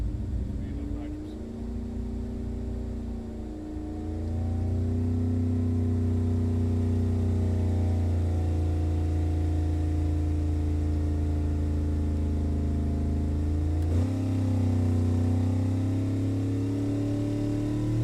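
A Ford 408W engine pulls hard on nitrous, a loud, steady mid-pitched drone that climbs and holds through the run, with a brief dip and recovery near the end and no speech over it.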